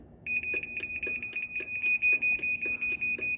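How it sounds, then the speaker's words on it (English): A Chamberlain/LiftMaster/Craftsman Security+ 2.0 garage door opener beeps in a rapid, regular series of short high-pitched electronic tones while its travel limits are being set, over a low mechanical hum. "It's going to flash and beep."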